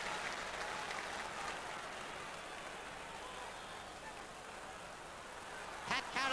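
Stadium crowd at the 1984 All-Ireland hurling final between Cork and Offaly applauds a player leaving the field, a distant, steady wash of clapping under a commentator's voice.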